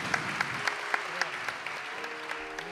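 Applause from a seated audience at a Tamil devotional music concert, a thin steady patter of scattered claps with a few sharper individual hits standing out, moderately distant and fairly soft throughout.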